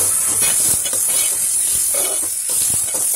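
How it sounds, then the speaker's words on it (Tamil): Cut brinjal tossed in oil gives off a continuous steamy hiss with a few soft spatula scrapes and taps, close and fairly loud, with no talking. "இதையுமே லைட்டாக கொஞ்சம் எண்ணெயில் இந்த மாதிரி பிரட்டி விட்டுக்கோங்க"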